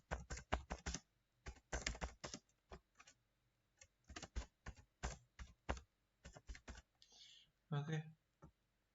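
Fingers type on a computer keyboard in quick bursts of close clicking keystrokes with brief pauses between runs, while a voice talks briefly near the end.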